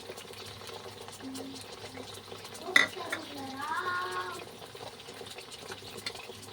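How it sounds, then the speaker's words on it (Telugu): Tamarind juice is mixed with spices in a bowl, making quiet stirring with a few light clinks of utensil against the dish. There is soft background noise and no clear speech. "మనము చింతపండు రసం ఈ విధంగా తీసుకొని ఇప్పుడు ఈ మసాలాలు ఉన్నాయి కదా ఇందులో వేసి కలుపుకుందాం."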